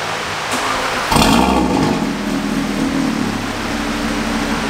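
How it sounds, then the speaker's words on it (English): A tuned Audi RS3 sits close by with its exhaust droning, then jumps to a louder, harsher roar as the valves open, holding a deep rumbling tone afterward. "I can hear the valves open."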